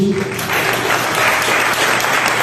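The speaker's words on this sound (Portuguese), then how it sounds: "Você pode aplaudir a Jesus." A church congregation applauds, a loud, dense burst of clapping that fills the space from start to finish, with a brief held tone at the very beginning.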